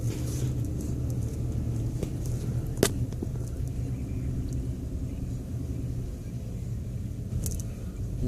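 Inside a car driving slowly, a low continuous road rumble and engine hum hold steady throughout, with a couple of sharp ticks or knocks standing out. Nobody speaks.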